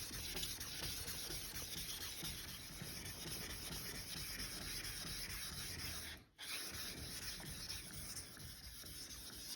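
A Deba knife is sharpened on a whetstone, producing a continuous close gritty scraping with a brief pause partway through.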